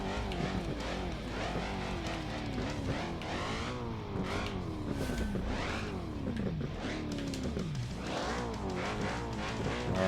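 Off-road rock-crawling vehicle driving in the BeamNG video game during a King of the Hammers race, a continuous engine drone with rising and falling revs and wavering pitch, heard alone without talk.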